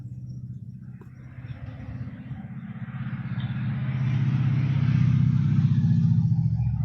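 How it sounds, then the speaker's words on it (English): A car passes at night with a steady low engine rumble that swells louder toward the end as it draws closer, alone and without talk. "Oh, that's a car going by or something."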